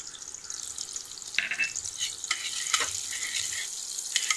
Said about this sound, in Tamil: கடாயில் எண்ணெய் சூடாகிட்டு இருக்கு. இப்போ வந்து கட் பண்ண இஞ்சியை போட்டுக்குவோம்.